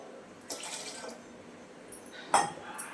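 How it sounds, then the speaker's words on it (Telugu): Cold water is poured in short, gentle splashes into a raw mango sharbat, a couple of soft bursts of trickling liquid, quiet and close, with no talk. "ఈ చల్లని నీళ్ళు ఇంకా కొంచెం వేసుకుంటున్నాం"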